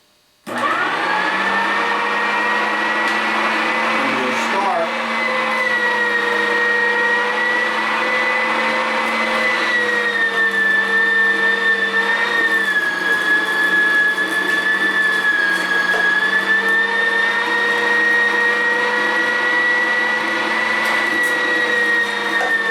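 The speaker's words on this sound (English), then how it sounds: "Now this grinder, of course, makes a lot of noise" An electric meat grinder works steadily through deer meat, a loud continuous motor whine with a constant pitch that runs close and unbroken throughout, with no voices over it.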